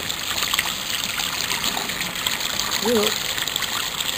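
Hot tap water runs at full pressure through a cheap faucet aerator, a steady rushing hiss close by, with a brief voice murmuring near the end.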